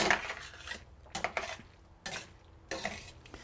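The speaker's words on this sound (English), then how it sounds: "the last step is to get my cheese in there and just lightly stir that in" Cheese stirred into a seafood fettuccine sauce in a pan, heard as a few short scraping, clinking stirs with quiet gaps between them, close and alone.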